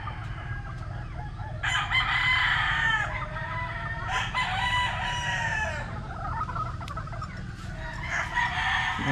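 A gamefowl rooster, a straight-comb Milsims Gray, crows three times in succession at moderate distance, each call rising and stretching out over a low background rumble.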